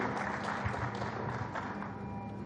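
Broad, steady applause from an audience welcoming two writers to the stage at a book event, dense and sustained for a few seconds with scattered louder claps.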